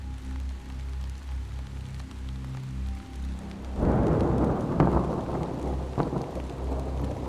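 Rain patters softly in the horror video game Hollowbody, then a loud, rolling thunderclap breaks in partway through and rumbles on over the downpour, with a few sharper cracks.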